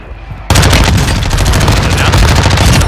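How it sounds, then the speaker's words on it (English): An incoming mortar strike in Warzone 2 gameplay arrives as a loud, dense barrage that starts abruptly and keeps rumbling and crackling for several seconds, dominating the mix. "Our mortar strike is inbound."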